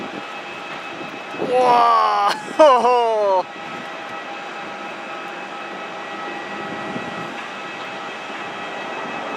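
A British Airways Airbus A380 takes off from London Heathrow with a steady, broad roar heard from a distance. Excited voices exclaim loudly over it early on, then the engine roar continues alone.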